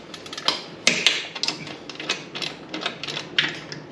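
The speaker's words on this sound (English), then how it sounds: "the ratcheting wrench really makes a difference with putting this together." Close, rapid ratchet clicks come in short uneven bursts as a ratcheting wrench tightens the bolts of a curved license plate mount.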